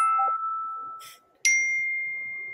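A phone notification chime rings out twice, bright clear dings each ringing and decaying over a quiet room, fairly loud and close.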